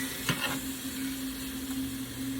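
Vegetables sizzling in a pan with browned bits of chicken and sausage scraped from the bottom, a soft steady hiss with a couple of brief scraping stirs near the start, fairly quiet and with no talk.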